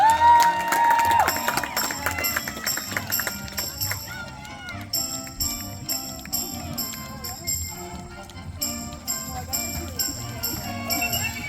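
A crowd in the stands cheers and claps for horseback riders racing at a Buffalo Bill Wild West show at a historical village. Lively cheering continues throughout, with a voice talking over it and music at the start.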